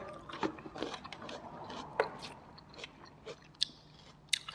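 Crisp yacon, also called snow lotus, being bitten and chewed up close, giving a run of sharp crunches at irregular intervals over a quiet background.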